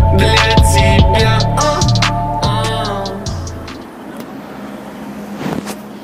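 A car's engine hums steadily with strong low harmonics on the way to a rural barbecue spot, then the tone drops and fades to a quieter rumble as the vehicle slows, with a faint thump near the end.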